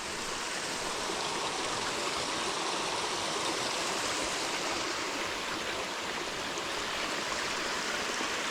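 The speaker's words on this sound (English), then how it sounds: "And here is the third water crossing." Steady, broadband rushing of stream water at a trail crossing on Youngs Mountain Trail in Lake Lure, North Carolina, heard close and continuous throughout with no voices.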